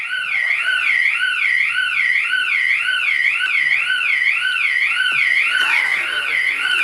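Election bugle call, a warbling siren-like horn tone that rises and falls in steady regular cycles, loud and continuous at an election commission press conference, with no talking over it.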